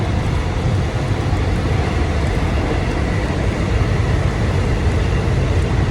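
Steady rumbling and rattling noise inside a moving Thai passenger train carriage near Phetchaburi, a continuous broadband roar with no voices.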